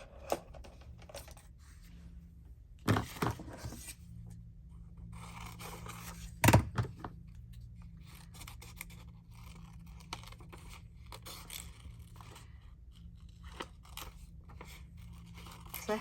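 Scissors cut paper during a quiet crafting session, with a few sharp snips and crisp scrapes standing out briefly against faint room noise and no talking.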